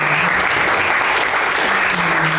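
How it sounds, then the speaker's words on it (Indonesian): Classmates in a school classroom clap for a student, a dense, loud and continuous round of applause from the group that holds steady throughout. "Beri aplaus untuk Mbak"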